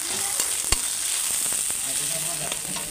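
Whole green chilies hit hot oil with fried chopped tomato for a silver carp curry, raising a steady close sizzle with a sharp crackle and a few light pops, with no talk.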